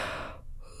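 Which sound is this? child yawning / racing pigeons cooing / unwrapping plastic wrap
child yawning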